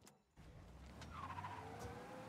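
A car engine in the video game Mafia: Definitive Edition starts up and revs, then tires screech briefly as the vehicle pulls away, with a steady low rumble underneath.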